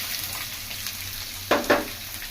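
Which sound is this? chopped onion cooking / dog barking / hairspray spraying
chopped onion cooking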